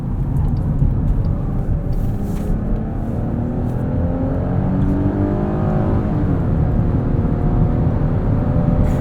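A 2020 Chrysler Pacifica Limited minivan accelerates up an entrance ramp in low mode, its engine drone and road roar rising steadily in pitch from inside the cabin, loud and continuous.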